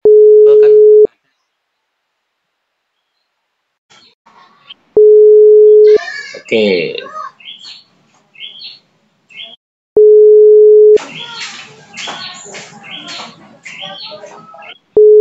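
A phone call rings unanswered, loud steady tone bursts repeating at regular intervals of roughly five seconds with silent gaps between, while a person speaks briefly in the pauses.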